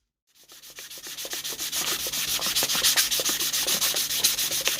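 Steady abrasive sanding on the metal commutator of a REVA G-Wiz electric car motor, a rhythmic scratchy rubbing that builds in loudness and continues without talk.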